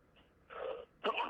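A person's sneeze in an indoor setting, a soft intake followed by two short bursts, the last sharper and louder, heard close and alone.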